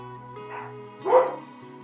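Dogs bark indoors nearby, two muffled woofs, the second louder and longer, over a steady background hum.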